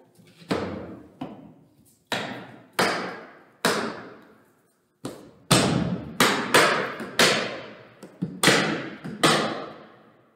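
A hard photo booth travel case being shut and latched after a ring light and iPad faceplate are packed, a series of sharp thumps and knocks, each ringing briefly, with pauses between them.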